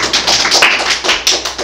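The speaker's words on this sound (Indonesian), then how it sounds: "Tepuk tangan dulu, Pak." An audience claps at an Islamic talk and seminar: brisk, close applause with loud irregular hand claps running throughout, and no talking.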